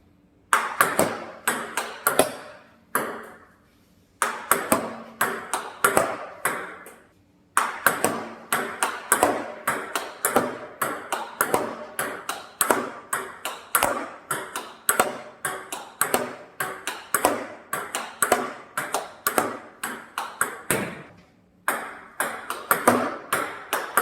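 A table tennis ball strikes a paddle with red Nexus EL 48 European rubber over and over in a rapid, steady rally of sharp pings, close up, with only brief pauses.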